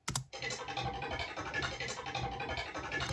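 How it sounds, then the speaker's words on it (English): Hi-hat pattern chopped from a recording of a stick hitting a fence at Alton Towers, a dense run of bright, scratchy ticks and rattles after a sharp opening hit, steady and close for about three seconds with no voices. "And here's how I've chopped it up into hi-hats."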